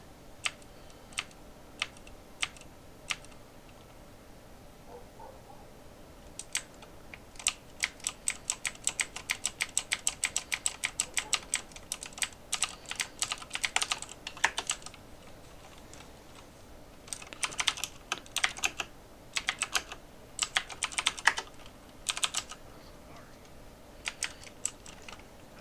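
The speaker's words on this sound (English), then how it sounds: "I did get a new keyboard, so sorry about the constant clicking." A new computer keyboard clicks through a long stretch of typing during Smite gameplay. Quick bursts of sharp, close key taps come in irregular clusters over a low background hum, with no talking.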